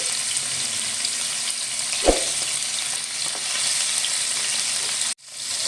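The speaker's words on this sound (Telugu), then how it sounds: "ముందు పన్నీర్ ముక్కలు ఫ్రై చేసుకుందాం." Small cut paneer pieces fry in oil on a low flame, a loud continuous crackling sizzle close by with a thump of stirring partway through, cutting off abruptly near the end.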